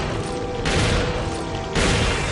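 Gunfire in the video game Resident Evil 4, dense loud bursts of shots that hit hard at the start and again near the end over a continuous roar, with no talk.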